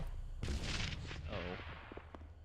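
A grenade explosion in the VR shooter Pavlov, heard as one sudden loud blast that rumbles and fades, followed by a few faint shots, all at modest volume.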